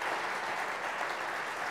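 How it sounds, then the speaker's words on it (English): An audience applauds with dense, steady clapping that fills the room evenly, loud and continuous throughout the brief moment. "Let's give Annie and Laura a round of applause for what their disclosures are"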